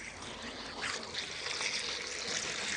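Water runs steadily from a garden hose during a car wash, a soft continuous splashing and trickling heard fairly close and at low level, with no talking over it.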